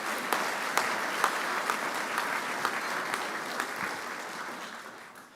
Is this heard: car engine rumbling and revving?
no